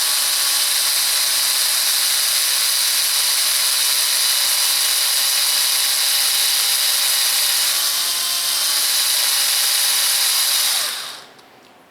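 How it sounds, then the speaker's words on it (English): A power drill spins a square tubing shaft, pressing it into resin for an RC submarine build, a steady high whine with a constant motor tone that stops abruptly near the end, with no talking. "fire up the drill and basically press it in about 1/4 inch so it embeds"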